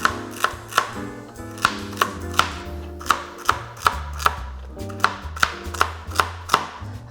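A knife slices through thin pieces of celery on a cutting board in a steady rhythm of about twenty crisp, close chops, with no talking.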